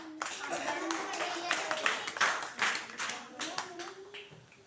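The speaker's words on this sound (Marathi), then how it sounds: "विदेशसाठी टाळ्या वाजव जोरात" Hands clap for Videsh in a run of sharp, close claps, steady at first and thinning near the end, with people talking over them.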